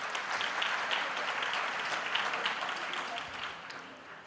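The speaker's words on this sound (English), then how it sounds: "Can we just please give them a round of applause for their achievements?" Graduates and guests at a university graduation ceremony give a sustained round of applause, fairly faint and distant, steady dense clapping that gradually tapers toward the end.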